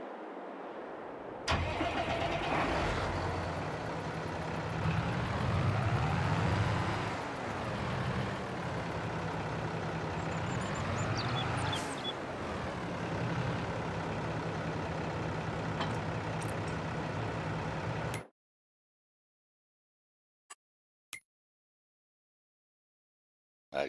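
A tractor pulling a trailer in the farming game Farming Simulator 22 cranks and starts, then its engine runs with a steady, loud mid-pitched drone for about sixteen seconds before cutting out to near silence with a few faint clicks.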